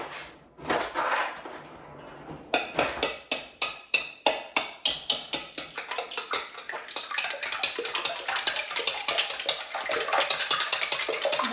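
Ingredients for a keto roast turkey casserole being whisked in a bowl, a rapid train of sharp, evenly spaced clinks close by that starts after a brief rustle and blurs into a dense, steady scraping rattle.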